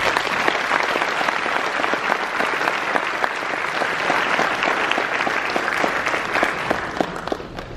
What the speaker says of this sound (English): please give today's inductees a round of applause